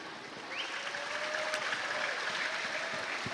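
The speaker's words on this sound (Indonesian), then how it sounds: "karena tepuk tangan udah meriah, saya stop." Enthusiastic audience applause at a PDIP party event lecture, a sustained, even roar of many people clapping that fills the hall without pause.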